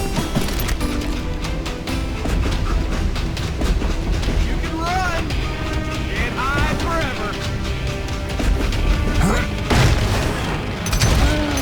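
In the western shooter Call of Juarez Gunslinger, a stopped train sits amid loud, dense gunfire and booming impacts. Rumbling and metallic clanks carry over continuous game music and effects, with talk mixed in.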